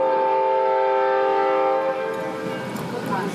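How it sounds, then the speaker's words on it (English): A Conway Scenic Railroad train sounds its horn close by, a loud, sustained multi-tone blast that eases after about two seconds into the rumble of the passing train. "And that's the train. That's our friend, the Conway Scenic Railroad"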